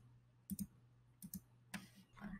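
Three separate pairs of sharp clicks from a computer mouse, crisp and close, with short quiet gaps between them and a low steady hum underneath.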